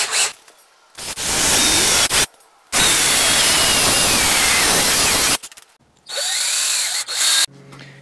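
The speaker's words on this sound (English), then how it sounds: "I've drilled a hole through the arbor on the motor" Power drill boring a hole through the metal arbor of a small motor for a homemade wind turbine: several loud, close whirring bursts of a few seconds each, separated by short pauses, with pitch shifting as the bit bites.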